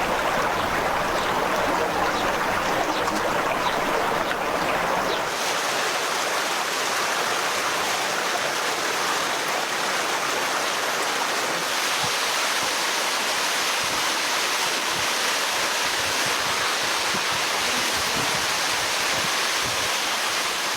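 Mineral hot spring water flows in a stream near Tabas, a steady, broadband rushing and babbling close by that holds constant for the whole stretch, with a slight shift in tone midway.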